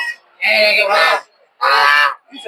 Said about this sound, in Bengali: চিরা হাঁস দেখতে পাচ্ছি